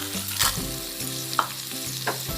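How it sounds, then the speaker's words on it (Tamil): Ginger, garlic and whole spices (cinnamon, cloves, cardamom, fennel, dried red chillies) frying in ghee for ghee chicken, a steady close sizzle broken by a few sharp stirring clinks of a spoon against the pan. "இதெல்லாம் நல்லா கோல்டன் ப்ரௌனா வறுத்துக்கணும்"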